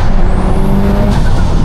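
A tuned 605bhp 2014 Subaru WRX STI accelerating hard in second gear, loud steady engine roar heard from inside the car with a faint rising whine, no voices.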